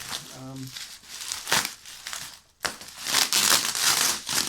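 Packaging around a Thorens TD 166 turntable being unwrapped, with close, loud crinkling and rustling in bursts that pause briefly midway, and a person talking over part of it.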